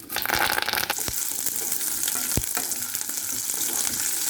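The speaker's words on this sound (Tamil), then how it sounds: "இது நல்லா ப்ரௌனிஷ் ஆகிற வரைக்கும் நல்லா வதக்குங்க." Sliced onions and curry leaves sauté loudly in hot oil with fennel seeds, a dense, close crackling sizzle broken by a couple of sharp spatula knocks against the pan.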